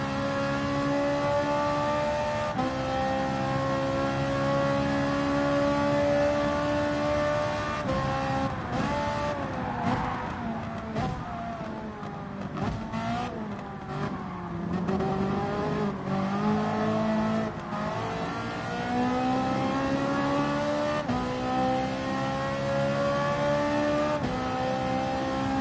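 A Ferrari race car in Gran Turismo Sport on PS4 revs hard and continuously through gear changes, its loud engine note rising and falling with brief tire squeal, alone with no talk.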